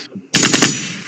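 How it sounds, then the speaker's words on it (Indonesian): Firecrackers go off in a sudden loud, rapid burst of several sharp cracks, close by, followed by a brief ringing decay. "Ada orang bakar petasan."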